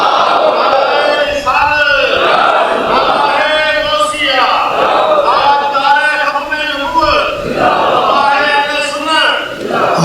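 A crowd at a religious sermon answers in unison with a chanted slogan, loud rhythmic voiced shouts rising and falling in repeated waves.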